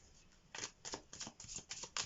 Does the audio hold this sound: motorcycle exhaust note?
no